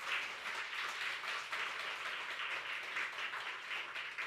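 A church congregation claps during a Korean sermon: continuous, fairly even applause from many hands that swells in gentle waves and keeps going without pause, with no speech over it.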